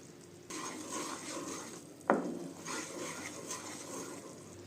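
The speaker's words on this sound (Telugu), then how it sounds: "పాకం మరుగుతుందండి. పాకం మరిగేటప్పుడు తిప్పుతూనే ఉండాలండి." Sugar syrup bubbling in a pan while being stirred, with cardamom powder added: a soft, steady bubbling sizzle with a sharp clatter of the utensil near the middle and faint stirring around it.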